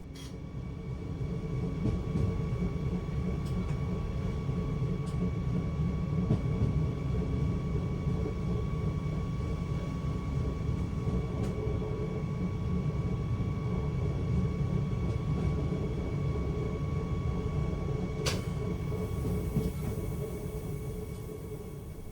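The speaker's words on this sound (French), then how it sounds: "Je peux donc tractionner jusqu'à la vitesse de 60 km/h." RER E commuter train running on the Chelles to Haussmann St-Lazare line, heard from the driver's cab as a steady low rumble and rolling hum with faint tonal whine, continuous and close throughout.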